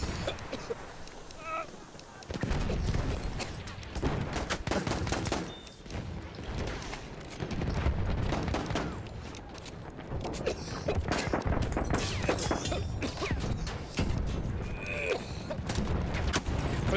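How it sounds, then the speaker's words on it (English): Rapid, dense gunfire and explosions from the World War I shooter Battlefield 1 crackle almost continuously at close range, with bursts of shots layered over one another while someone talks over the battle. "Quit shooting that crap."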